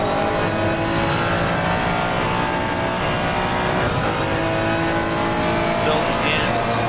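Race car engines roar steadily at Silverstone in a racing video game, a dense continuous drone of several cars close by with no break, while a commentator talks over it.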